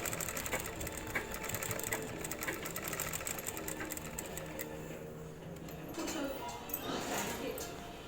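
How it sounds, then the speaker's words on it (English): A sewing machine runs in steady, rapid stitching bursts while a school uniform collar is sewn, with brief pauses as the piece is turned, and a person talks over the mechanical rattle. "turning the piece and top side tension margin stitching, collar finishing, tension margin stitching"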